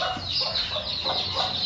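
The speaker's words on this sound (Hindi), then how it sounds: "हमारी मुर्गी अच्छा यहीं पे है, तीनों मुर्गों के बीच फंस गई" A hen caught among three roosters on a small farm, with steady clucking and gobbling fowl calls repeating close by against a background chorus of birds.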